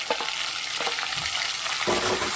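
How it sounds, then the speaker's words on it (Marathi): Chopped onion and tomato sizzle steadily in a hot pan while cooking for shepu dal, with soft stirring scrapes over a constant frying hiss, close and without talk. "आता मी टॅमॅटो घालत आहे"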